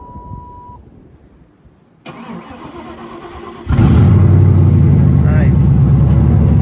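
An old Mercury car with rotted-out mufflers starts up: a short quiet stretch, the starter catches, then the engine roars into a loud, rough, leaky exhaust rumble that keeps running close up, with a voice briefly heard.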